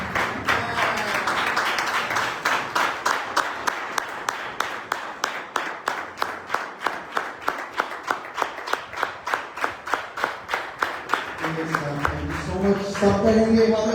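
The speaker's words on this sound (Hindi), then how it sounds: "यीशु के लिए जोरदार ताली।" A church congregation claps for Jesus in steady rhythmic unison, roughly two sharp claps per second building over many seconds, with a brief swell of crowd sound at the end.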